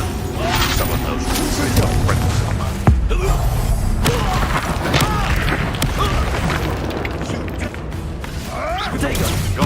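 Confringo fire-blast spell explosions in the Hogwarts Legacy video game, dense loud bursts and impacts running continuously beneath a voice speaking over the action.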